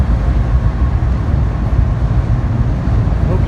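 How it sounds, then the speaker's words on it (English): A train passes by in the evening, making a loud, continuous low rumble that holds steady for the whole stretch with no talking. "I'm watching a train go by."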